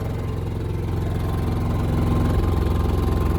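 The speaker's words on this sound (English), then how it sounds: "This is basically at idle, too, by the way." An NPS generator fitted with an eco kit idles right nearby, a loud, steady low engine drone with an even mechanical hum throughout.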